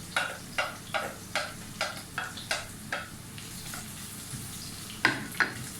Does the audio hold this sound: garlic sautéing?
yes